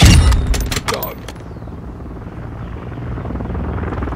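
Call of Duty chopper gunner helicopter, an opening burst of loud gunfire and mechanical clatter that settles into a steady rotor drone, close and continuous in game audio.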